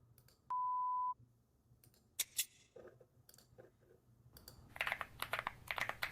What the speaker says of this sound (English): There's a typing sound.